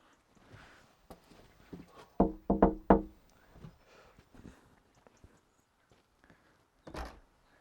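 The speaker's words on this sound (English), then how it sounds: "So let's go and knock the door." A rapid burst of firm knocks on a wooden door, close and loud, followed by a few quieter thuds and a final single knock.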